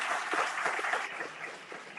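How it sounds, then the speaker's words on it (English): Continuous crowd applause at an environment day crafts celebration, dense even clapping from a room full of people, moderately distant and steady throughout. "Thanks to all of you, a big round of applause."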